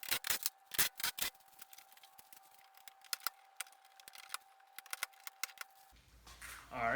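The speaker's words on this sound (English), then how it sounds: "I also have my plastic pry tool. I'm just going to go through and take each one of these out." Close, sharp plastic clicks and snaps come in an irregular series as a plastic pry tool pops out bumper cover clips on a Chevy Malibu, ending with a brief rustle.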